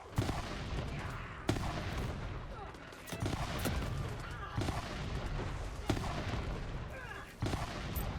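Mounted turret firing at trolls in the video game Tiny Tina's Wonderlands, with rapid continuous gunfire and booming impacts in sustained bursts, loud and up front, separated by a few short pauses.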